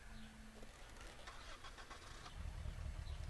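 Car engine starting inside the video game Dead Island, a brief crank and catch that swells into a louder, steady low rumble near the end, with no voices.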